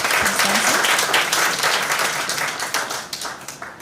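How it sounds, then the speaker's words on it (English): An audience at a high school debating competition gives a round of applause, a brisk burst of clapping that gradually thins and fades out. "Might we have a round of applause for Mr. Barrett?"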